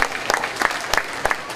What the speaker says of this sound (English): and to them another round of applause.